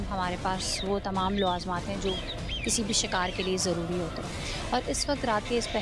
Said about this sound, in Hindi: आपको बैकग्राउंड में जो है वो आवाज़ें आ रही होंगी, परिंदों की चहचहाट की आवाज़।